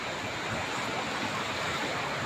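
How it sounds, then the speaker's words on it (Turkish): Floodwater from an overflowing creek blocked at a bridge rushes steadily, a dense constant roar like surf with no breaks, heard from nearby without talk. "Evet su gitgide içeri girmeye başladı fazlasıyla."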